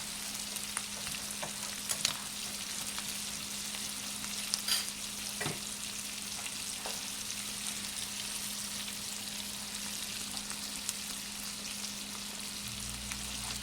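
Frozen corn fries in a pan over high heat for sausage and tomato gravy, a steady dense sizzle running throughout with a few soft stirring clicks and scrapes, close and alone without talk.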